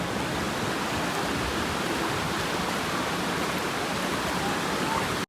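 Steady, continuous rush of water spilling over a small earthen check dam (bund) on a hillside stream, loud and close, an even broadband roar with no breaks and no voices.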